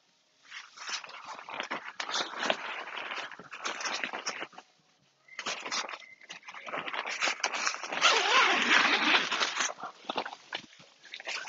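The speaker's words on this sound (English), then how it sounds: "I've got zipper all the way to the end here." A zipper on a Coleman connectable tent runs in long, rasping pulls, near and fairly loud, with a short pause before a second stretch of zipping.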